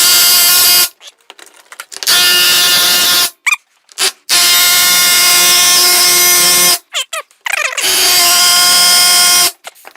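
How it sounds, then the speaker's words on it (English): A loud, rapid mechanical hammering buzz from a Ridgid battery auto hammer driving nails runs in long bursts, stopping briefly between them, close up and harsh. "next is the rigid auto hammer"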